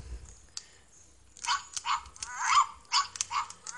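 Barking toy dog giving a run of several quick, high-pitched electronic yaps, close and fairly loud, with no talk over it.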